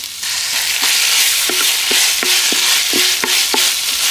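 Onions frying with salt and ginger garlic paste for chicken biryani, a loud close sizzle with a spoon scraping and tapping the pan in a regular rhythm of about eight strokes, no speech.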